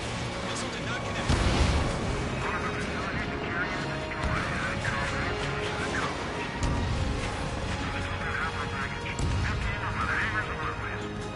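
Heavy fire pounding a harbor in Ace Combat 7, a dense continuous roar of explosions and impacts with periodic louder booms, layered under radio voices talking throughout.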